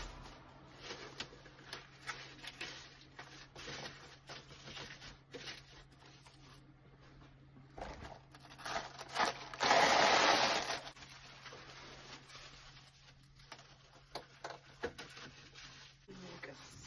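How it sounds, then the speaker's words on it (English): Press'n Seal plastic wrap is pulled and pressed over washed super fine merino wool to keep the heat in, making a loud crinkly tearing burst midway among quieter rustles and handling noises, with some talking nearby. "Going to cover this with a press and seal to keep the heat in."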